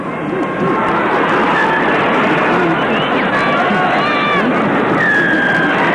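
A large rugby league stadium crowd at a 1982 Canterbury versus South Sydney match, a dense steady roar of many voices filling the whole clip, loud and continuous with scattered whistles and shouts rising from it.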